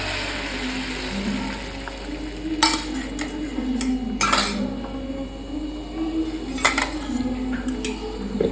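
Home-raised duck eggs are beaten in a bowl, a wet churning stir broken by a few sharper clinks of the utensil against the bowl's rim.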